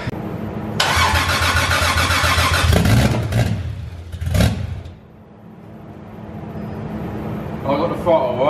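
A 2JZ-swapped BMW E36 cranks and fires for the first time, a loud burst of starter cranking followed by rough bursts of engine noise that settle lower, with people talking and cheering.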